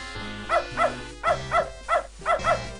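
Dog in the Beneath A Steel Sky video game, a series of about eight short, evenly paced barks over a low droning game music bed, loud and close.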